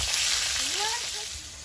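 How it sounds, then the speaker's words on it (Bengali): Katla fish pieces sizzle in hot oil in a short burst of close, continuous frying hiss, with a brief faint voice-like tone in the middle. "মাছগুলো ভাজা হয়েছে তুলে নেবো"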